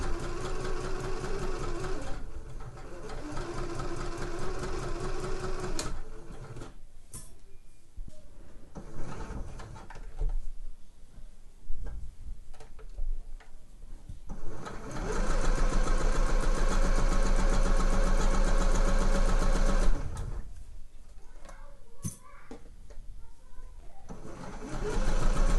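A sewing machine stitches trouser legs, starting with a short back stitch. Its steady mechanical whirr runs in several sustained bursts with brief pauses between, and a voice talks over parts of it.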